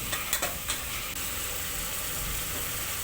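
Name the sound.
tomatoes frying in a pan with turmeric powder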